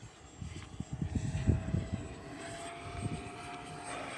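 An E-flite F-16 Falcon 80mm electric ducted-fan model jet flies aerobatics overhead with a steady, distant whooshing whine and a low rumbling swell, heard outdoors with no talk.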